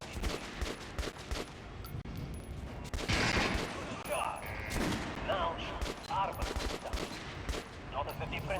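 Rapid bursts of gunfire from guns being tried on a shooting range in the game Metro: Last Light Redux, sharp repeated shots with echoing tails over a busy game soundscape, with some voices in between.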